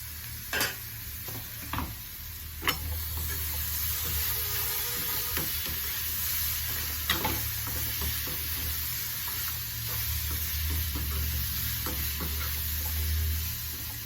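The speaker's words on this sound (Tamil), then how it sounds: "வேக வச்ச இந்த பட்டாணியும் இதில் போட்டுக்கலாம்." Boiled peas are stirred into a hot frying pan, giving a steady low sizzle with a few scraping clicks of the spoon, close by and with no voices.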